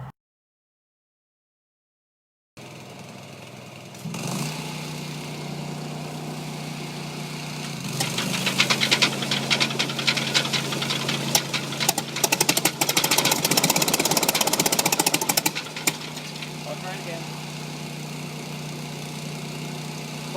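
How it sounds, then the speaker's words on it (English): A 1943 Lincoln SAE400 engine-drive welder's Continental F163 gasoline engine starts after a silent gap and runs at a steady, close idle, then grows louder and rougher with rattling knocks before settling back into an even run. "See, it's a Continental F163 engine."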